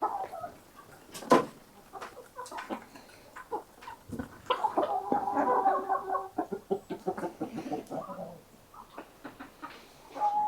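Chickens cluck and murmur close by near a nesting box in a scattered, busy stream, with occasional sharper squawks and light rustling.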